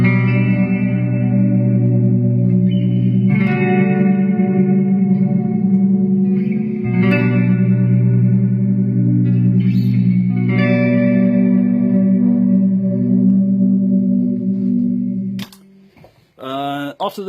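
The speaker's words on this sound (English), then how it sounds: "I wanted to have a reverb before it hits the delay section, and the Dispatch Master just does many things very well." Guitar played through a Strymon Dispatch Master reverb and delay pedal, ringing chords that swell and wash into long echoing tails, alone until a short clatter near the end.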